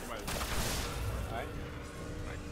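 Rapid gunfire and explosive bursts from the sci-fi shooter game Destiny, dense and continuous at moderate volume, with a player's voice talking over the fire.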